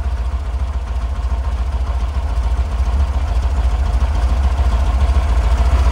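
A 1977 VW Combi T2b Deluxe engine idles close by. It gives a steady low rumble with a faint pulsing rhythm and stays loud and even throughout, with no talk over it.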